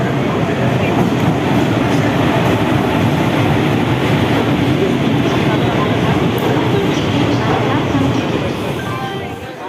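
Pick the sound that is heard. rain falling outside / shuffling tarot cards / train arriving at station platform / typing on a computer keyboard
train arriving at station platform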